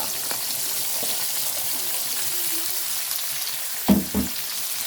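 Vegetables for pakbet with tilapia sautéing in a pan, a steady close sizzle throughout with a couple of louder scraping stirs near the end.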